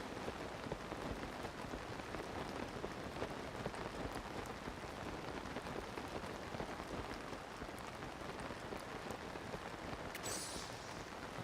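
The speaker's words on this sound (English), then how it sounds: "I can't see with the rain." Rain falling in the video game Zelda: Tears of the Kingdom, a steady, faint hiss of dense raindrops pattering on surfaces, continuous and even with no voices.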